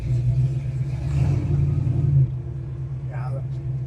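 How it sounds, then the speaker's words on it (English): A 1970 Chevelle SS idles with a deep, steady low rumble as its transmission is put into gear, while people talk over the engine. "Transmission goes into gear nice."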